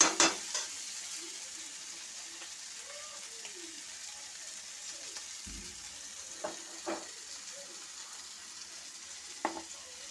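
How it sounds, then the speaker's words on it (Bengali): Potatoes and spices sautéing down in a pan give a soft, steady sizzle, with occasional scrapes and clinks of a utensil against the pan, close by and fairly quiet. "এখন কষে নেব।"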